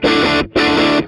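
Electric guitar played through a Mammoth Machine overdrive pedal, two loud sustained distorted chords with sharp attacks, each ringing about half a second, separated by a brief gap.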